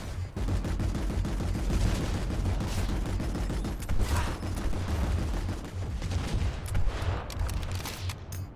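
Rapid gunfire from a Showdown weapon in Planetside 2, a sustained fusillade of sharp repeated shots with slight pauses, fairly loud and continuous over background battle noise, with no talking.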